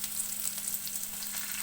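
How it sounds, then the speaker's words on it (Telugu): Steady, close sizzle of food frying in a pan as it browns during preparation of a side dish kurma for egg biryani, crackling evenly without pause and with no talking. "ఇది కొంచెం బ్రౌన్ కలర్ వచ్చే వరకు ఫ్రై చేసుకోవాలి"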